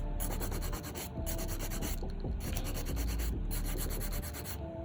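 A nail drill roughs a nail on a practice trainer hand, giving a steady close scratchy grinding rub with short rhythmic breaks as the bit is lifted and reapplied.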